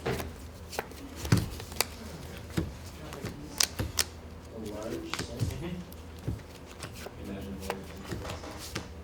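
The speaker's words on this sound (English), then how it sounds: "I'm gonna have to do a sorting shuffle." A deck of Magic: The Gathering cards being shuffled in a sorting shuffle during a Friday Night Magic match, with rapid crisp card snaps and riffles in uneven bursts, close and fairly loud, with people talking.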